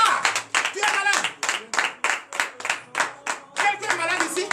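A congregation at a morning prayer service claps in a strong rhythmic pulse, loud close handclaps accompanied by voices singing or chanting along.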